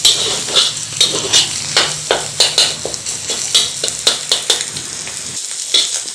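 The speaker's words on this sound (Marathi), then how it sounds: "आता आपल्याला ही तोडून घ्यायची आहे म्हणजेच याचे बारीक बारीक असे तुकडे करून घ्यायचे आहेत" A spatula repeatedly chops and scrapes a cooked egg omelette in a hot pan for chicken fried rice, sharp rhythmic clinks and taps over a steady, close sizzle.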